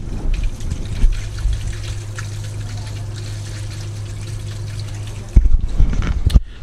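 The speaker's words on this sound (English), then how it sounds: "the second overflow has started to take some of that over there, which is why there's a slight noise coming from the sump." Water trickles steadily through an aquarium sump overflow, a soft continuous dribble over a low hum of pump noise, with a louder splash and gurgle near the end.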